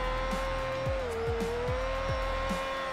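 A Nissan S13 engine screams at steady high revs in third gear in a driving game, a sustained loud drone with a faint pitch dip midway and a repeating low rhythmic thump underneath, no voices.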